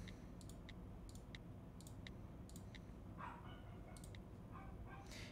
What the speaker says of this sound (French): Le chien aboie tout le long